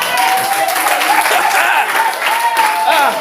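A church congregation applauding loudly and continuously, dense clapping filling the hall while voices ring out over it.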